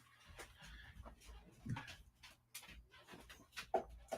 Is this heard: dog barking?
yes